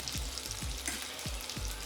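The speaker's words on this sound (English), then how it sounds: "I'll give this one a bit of a sizzle until it's looking nice and soft." Steady close sizzling of chopped garlic frying in butter in a pan, with a few soft stirring scrapes and no talking.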